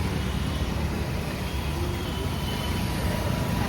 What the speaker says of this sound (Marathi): ते बघा गाडी आली.